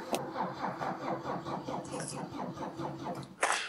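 A Mercedes lowrider with an OM606 diesel engine cranks over with a rapid, rhythmic starter churn, close and steady for several seconds, as the diesel struggles to catch.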